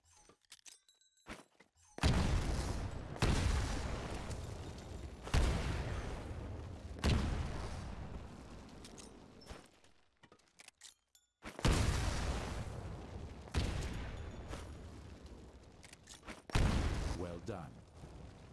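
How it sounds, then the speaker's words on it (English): Grenade blasts in a Titanfall training module on Xbox One, four or five loud broadband booms spaced a few seconds apart, each with a decaying rumbling tail, with game voice sounding in between. "Throw a grenade into each of the windows."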